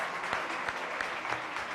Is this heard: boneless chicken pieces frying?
no